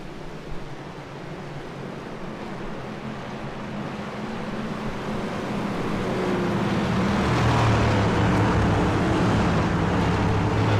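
Race cars in a sim racing game roar up to speed together on a green-flag restart at the Chicago street course, a dense engine drone that swells steadily louder toward the end.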